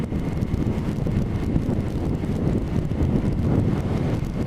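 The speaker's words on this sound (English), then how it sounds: "you can hear the bike, you can hear that it's revving reasonably highly" A motorcycle engine, which idles at about 1500 to 1800 RPM, runs at high revs, a steady, loud, rough drone that continues throughout with no pauses.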